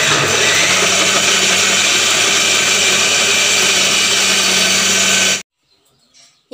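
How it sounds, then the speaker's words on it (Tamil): A loud, steady electric mixer grinder whirs continuously for about five seconds, grinding ingredients for a fish curry, then cuts off abruptly, leaving near silence. "இப்போ பாருங்கள் நல்லா மிக்ஸியில் போட்டு நல்லா அரைச்சிட்டேன்."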